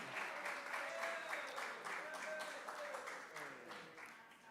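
Audience applause at a school board of education meeting, a steady wash of clapping from a crowd that holds for several seconds and slowly tapers, with faint voices mixed in.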